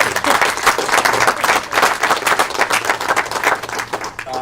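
A crowd applauding at a homeownership celebration, dense steady clapping from many people, loud and close, carrying on for several seconds.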